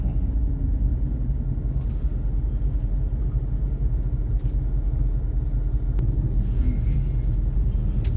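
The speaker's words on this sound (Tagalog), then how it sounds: "So heavy traffic expected in this area." Heavy traffic on a Cebu City road near bus rapid transit construction and detours gives a constant low engine rumble, with passing vehicles swelling now and then and a faint clack or two, no voices.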